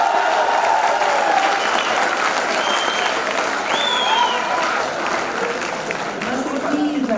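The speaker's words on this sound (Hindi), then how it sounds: "जोरदार तालियां बजाएं।" Loud, sustained applause from a student audience at a Hindi poetry recital, dense clapping continuing throughout with a few voices and whoops mixed in.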